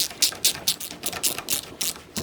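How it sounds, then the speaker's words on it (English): A ratchet tightens the pinch bolts on a bicycle crank, making steady, close, rhythmic clicking strokes, about eight in quick succession. "I'll do the pinch bolts up."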